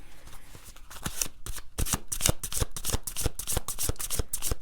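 Tarot cards riffled and shuffled by hand in a rapid run of crisp, close flicking bursts with no talking.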